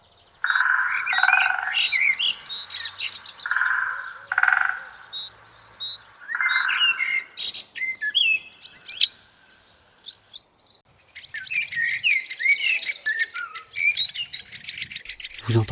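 Birds sing and chirp outdoors in Roubaix, several overlapping calls close by with frog-like croaking phrases among them, continuous for most of the stretch with a brief quieter gap before the chirping resumes.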